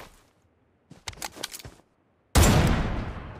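Sniper rifle shots in a battle royale video game, featuring AWM and M200 rifles: a quick cluster of clicky mechanical sounds, then one loud, close shot with a long decaying echo.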